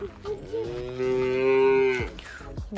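A cow lets out a loud, drawn-out moo close by, rising and holding for about a second before trailing off.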